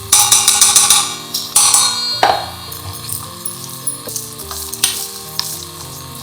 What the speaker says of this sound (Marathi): याच्यात आपण कुकर तापल्यानंतर तेल टाकणार आहे आणि मग त्याच्यात हे मटण टाकणार आहे